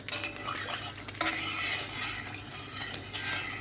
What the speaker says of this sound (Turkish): Karıştırarak pişirelim.